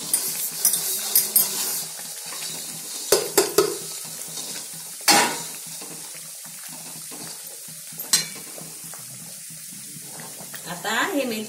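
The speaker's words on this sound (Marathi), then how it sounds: "आता हे मेथीचं मिश्रण आणि हा गोड हे तेलात चांगलं गरम होऊ द्यायचं" Fenugreek and jaggery mixture heating in oil in a home kitchen for fenugreek laddoos, giving a soft steady sizzle broken by several sharp spoon scrapes and clinks against the pan.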